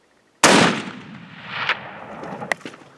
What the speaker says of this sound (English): No, just shoot him again.